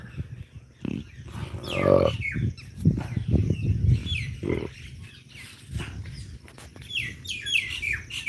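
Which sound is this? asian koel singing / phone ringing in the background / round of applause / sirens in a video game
asian koel singing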